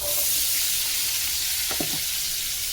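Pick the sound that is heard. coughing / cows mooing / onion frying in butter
onion frying in butter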